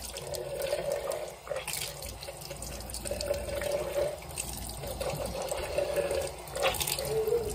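Tap water runs steadily into a bathroom sink while toothpaste is rinsed off, a continuous close splashing hiss with slight shifts in flow and no talking.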